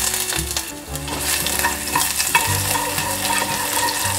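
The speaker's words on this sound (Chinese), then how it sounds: "姜片略炒一下" Ginger slices stir-fried in hot oil with Sichuan peppercorns give a loud, steady close sizzle with the scrape and clatter of a spatula stirring in the pan.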